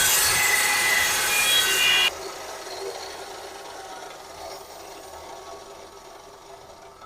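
A saw blade cuts through wood during an ATV repair. A loud, harsh grinding rasp comes first, then drops to a quieter, steady scraping hum as the cut continues.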